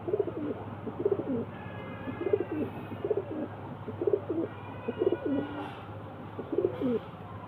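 Pigeons coo in repeated low, rolling phrases, close by, with a soft steady hum in the background and faint higher chirps in between.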